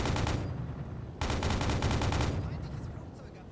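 Rapid bursts of anti-aircraft gunfire in the UBOAT submarine game bring down an attacking aircraft: a dense stuttering volley, a short pause, then another long loud burst that fades into rumble.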